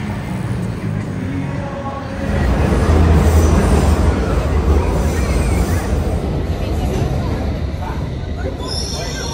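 London Underground metro train heading to Camden Town, its rumble swelling loudly after a couple of seconds into a sustained roar with wheel squeal and rattling, with voices faintly mixed in.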